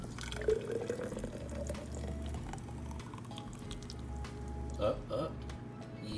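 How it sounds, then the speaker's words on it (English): A blended strawberry, watermelon and yogurt smoothie is poured from a blender into a glass, giving a steady liquid flow with a few drips and glugs beneath a voice talking. "So I'm finna pour that bad boy in there."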